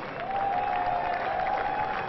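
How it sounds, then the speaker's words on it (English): Steady applause from a large tennis crowd at the 2013 Chennai Open fills the space, an even wash of clapping with a faint tonal hum beneath it. "Taking the applause of the crowd"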